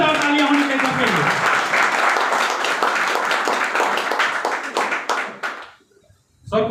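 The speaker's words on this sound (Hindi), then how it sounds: "जोरदार तालियां होनी चाहिए सबके लिए" Loud audience applause welcomes a platinum leader at an AWPL gathering, dense rapid clapping sustained for about five seconds before cutting off abruptly, with a voice over the sound near the start and again at the very end.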